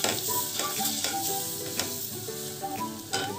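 Spices being mixed into a potato and vegetable mixture for aloo tikki burger patties produce steady stirring and scraping strokes with a sizzling, crackling texture throughout, close and fairly loud.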